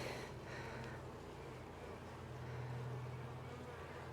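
Honey bees buzz softly around an open hive during an inspection, a faint continuous drone with no talk over it.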